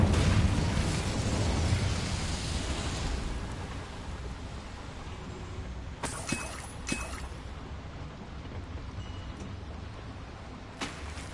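Incendio fire spell in Hogwarts Legacy: a rushing, roaring burst of flame that fades into a crackling hiss, with a few sharp pops and snaps later on.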